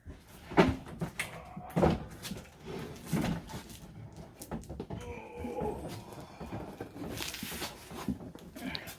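Drawers of an old workbench cabinet being pulled open, several wooden scrapes and knocks spread through the clip over steady background noise, with brief rustling between them.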